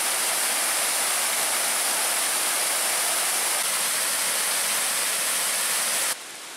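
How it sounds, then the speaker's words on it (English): A small waterfall in a gorge at Pictured Rocks, Michigan, gives off a loud, unbroken hiss of rushing water that cuts off abruptly near the end. "Oh, that's a beautiful small waterfall."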